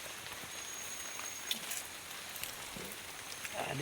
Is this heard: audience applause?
no